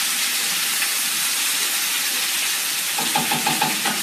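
Food frying in bacon grease in a cast iron skillet, giving a loud, steady, close-up sizzle and hiss that runs throughout, with light scraping clatter near the end.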